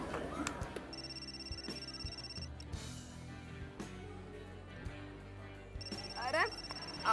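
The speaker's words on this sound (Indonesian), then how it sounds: "Itu handphone kamu ya selalu bunyi di saat yang nggak tepat tau gak?" A mobile phone rings with a steady repeating electronic tone, heard in a room under a low background of activity, with a voice speaking over it.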